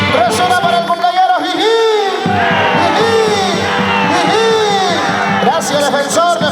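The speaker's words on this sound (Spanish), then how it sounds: "Vengan los aplausos, gracias." A loud crowd cheers and shouts with excited voices overlapping, a dense, continuous roar of celebration close by, at a 50th birthday party.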